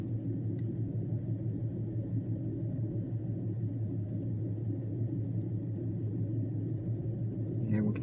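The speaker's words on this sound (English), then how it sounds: "we've got the car running right here" A 1997 Ford Taurus engine idles steadily up close, a low continuous rumble with no revving and no talk over it.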